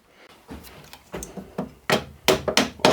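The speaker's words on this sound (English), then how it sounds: "tap with a hammer, I think." Exploratory hammer taps ring out on a part from a stripped Locomobile engine. About seven sharp metallic knocks sound close by and grow louder and quicker toward the end, with no talk.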